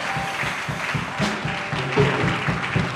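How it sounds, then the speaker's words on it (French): A church congregation applauding and cheering in praise of God, a dense ongoing clatter of many hands with rhythmic pulses and a rising swell of voices, loud and close. "Quelqu'un peut donner des acclamations à Dieu."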